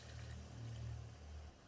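Water is poured into a pan holding cut fried tofu, a soft, steady low gurgle and trickle lasting just over a second before stopping, faint and close with no talk.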